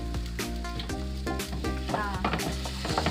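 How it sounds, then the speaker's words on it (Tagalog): Onions fry in a pan, sizzling steadily, while a utensil stirs and scrapes in sharp repeated strokes. The cooking is heard close up, and a voice speaks from time to time. "Palutuin lang natin ang ating onions"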